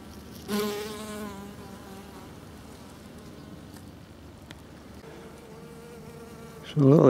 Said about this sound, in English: quite surprising to see these dark bees